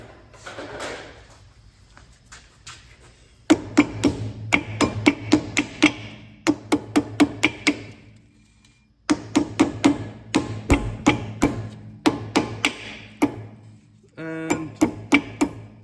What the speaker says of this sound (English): Using a lump hammer to put that in.